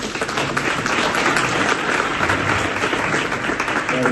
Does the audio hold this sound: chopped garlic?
no